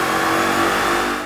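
A 6-speed 2015 Ford Mustang GT on a dyno with a VMP 93-octane tune, its V8 engine revving loud and close in one sustained, steady high-rpm pull.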